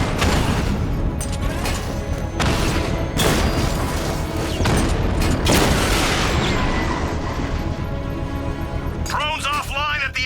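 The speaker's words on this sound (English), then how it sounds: "to trigger a controlled explosion" A controlled bomb explosion in the video game Batman Arkham Knight: loud booming blasts and crashing debris in rapid succession, dense and close, fading to a brief voice at the end.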